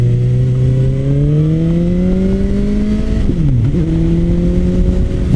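A Suzuki GSX-S750 four-cylinder motorcycle with an aftermarket exhaust accelerates hard with a loud, rising engine note. A brief dip for a gear change comes about two-thirds through, then the engine pulls again, close and steady under wind noise.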